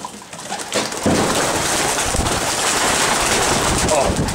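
Stock pigeons in a loft, including a pair of blue bars, cooing close by over a constant rushing background, with someone talking throughout.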